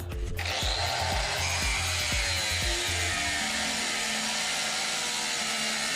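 A power tool cuts through a metal bracket piece for a Predator 212/224 engine gas tank mount, starting with a sharp bite and then a sustained whining grind with rhythmic low thumps early on. No one speaks.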